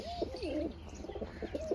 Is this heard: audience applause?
no